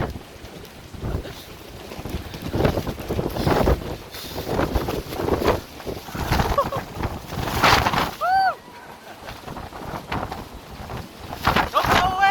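Strong, gusty wind roars and buffets against the microphone on a mountain summit during a thunderstorm, loud and continuous, while people shout and talk over it.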